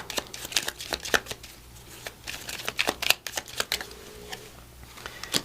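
Tarot cards are shuffled by hand in a rapid run of crisp snapping riffles and slaps, close and moderately quiet, with no voices.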